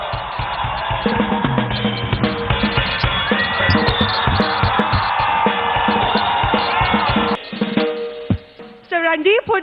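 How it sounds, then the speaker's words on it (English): A large audience at a comedy and talk event cheers, whoops and shouts as a guest is welcomed on stage, a loud continuous crowd roar that drops away near the end as a voice takes over. "A big round of applause."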